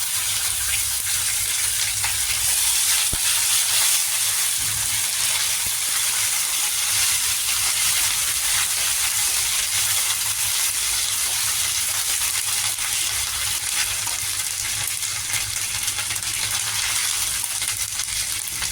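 Ginger paste frying in a pan, a dense, steady sizzle and hiss that holds evenly throughout without a break.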